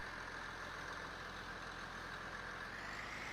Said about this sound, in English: we'll drive the harvester itself up by itself